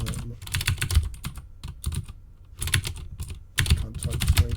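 Fast, close typing on a computer keyboard, with dense bursts of key clicks broken by brief pauses and no voice over them.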